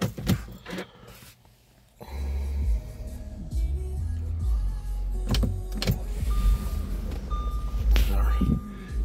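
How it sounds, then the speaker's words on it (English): The motor of a panoramic sunroof on a 2015 Audi Q5 3.0T Quattro hums steadily close inside the cabin while it closes, framed by a few clicks and thumps and ending in a soft stop. "Panoramic sunroof here, that closed up"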